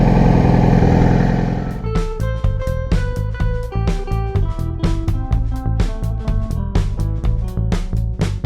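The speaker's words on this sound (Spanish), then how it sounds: "vamos a acelerar un poquito para que empiece a calentar rápidamente." A Yamaha R6 motorcycle engine is revved while warming up. A loud, close roar gives way to a fast, pulsing throb.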